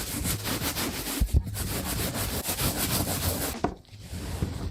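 Stiff brush from a Jason Markk cleaning kit scrubbing a wet sneaker, a close, continuous rasping rub with a steady back-and-forth rhythm that stops abruptly near the end.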